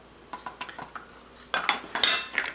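A metal tablespoon scoops cocoa from a container, making a quick run of light clinks and scrapes, then a louder cluster of clattering taps against the tin, close and without talk.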